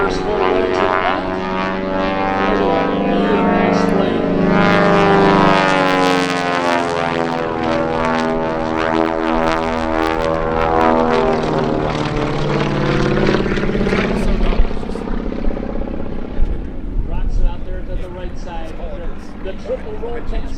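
Propeller airplane built in 1943 performing rolls at the Spirit of St. Louis Airshow, its engine drone rising and falling with a pronounced Doppler sweep as it passes, loud and sustained, with an announcer talking over it.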